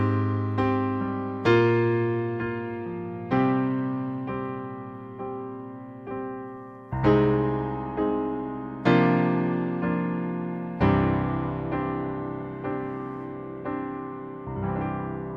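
Solo piano plays a majestic worship transition through a flat-six, flat-seven to one chord progression, sustained chords struck one after another with ringing decay, clear and close with no talking.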